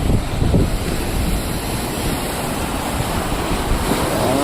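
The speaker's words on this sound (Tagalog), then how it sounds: "Ang lalaki ng alon mga idol." Large waves crash and churn along the shore near Nasugbu during Typhoon Emong, a heavy, continuous roar of surf with strong wind buffeting the microphone and no voices.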